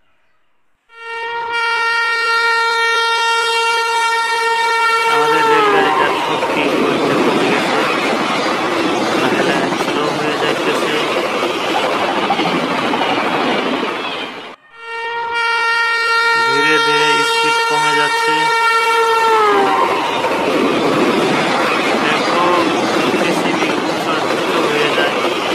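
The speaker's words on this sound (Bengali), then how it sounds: "রেলগাড়িটা কীরকম স্পিডে যাইতেছে দেখো" A train, likely with a horn, sounds loud and near for about 25 seconds. Two long harmonic horn blasts each give way to a broad, steady rumble of a train running at speed.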